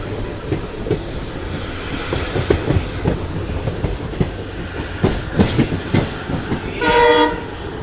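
A locomotive-hauled passenger train crossing the Thar desert picks up speed with steady rumbling and rhythmic clickety-clack of wheels, and a loud horn blast sounds near the end.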